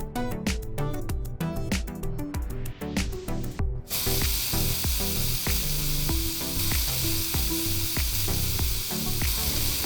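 Busy rhythmic music fills the clip, then a loud steady spray hiss bursts in partway through and continues under the music.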